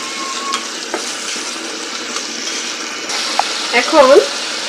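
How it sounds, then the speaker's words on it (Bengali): Prawns and chopped onion fry in a pan for a banana-blossom ghonto, making a steady close sizzle with stirring sounds and a brief clatter near the end. "এখন চিংড়ি মাছ আর পেঁয়াজটাকে একটু ভেজে অন্যান্য মশলাগুলি অ্যাড করব"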